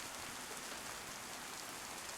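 Rain falls in the video game DayZ as a dense, steady hiss of drops on surfaces, even and unbroken from start to finish with no voices.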